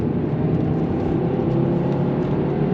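Volvo 850 GLT with a 2.5 litre inline five-cylinder engine cruising on the road, a steady, close, even engine drone and road whir from inside the car, no voices.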